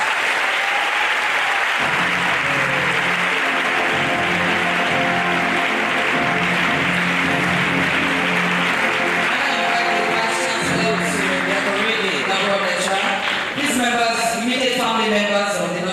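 Sustained audience applause fills a lecture hall after an inaugural professorship lecture, a steady loud wash of clapping lasting throughout, with music or tonal sound joining beneath partway.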